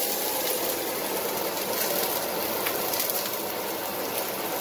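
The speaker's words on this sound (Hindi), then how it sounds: "मैं थोड़ा एग्जॉस्ट स्टार्ट कर देती हूँ" A kitchen exhaust fan runs in a home kitchen while aloo filling cooks, giving a loud, continuous broadband whoosh that holds steady throughout with no talking.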